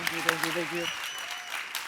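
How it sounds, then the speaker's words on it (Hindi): A television comedy show's studio audience breaks into applause, a brief burst of clapping that sits under a voice and fades out by the end. "एक बार गौहर और राजीव के लिए जोरदार तालियां।"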